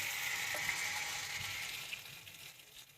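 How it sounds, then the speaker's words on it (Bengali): Eggplant frying in oil over a low flame gives a soft, steady sizzle and crackle that stays constant throughout at fairly low volume, with no talk. "বেগুনগুলোও লো ফ্লেমে ভাজতে হবে যাতে বেগুনগুলো না নরম হয়ে যায়।"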